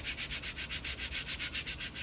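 Hands and fingers being scrubbed with a chlorhexidine-soaked surgical scrub brush at a scrub sink, a close, rhythmic rasping of bristles in quick regular back-and-forth strokes, about five per second, with no voices.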